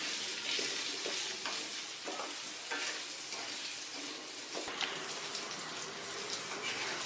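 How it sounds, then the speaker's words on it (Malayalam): Indian gooseberries fry in a pan while being stirred, giving a constant hissing sizzle broken by soft scraping strokes, fairly quiet and close, with no voices. "നമ്മൾ നെല്ലിക്ക നന്നായി ഇളക്കി കൊടുക്കണം നല്ല ബ്രൗൺ നിറം വരുന്നത് വരെ ഇളക്കി കൊടുത്ത്"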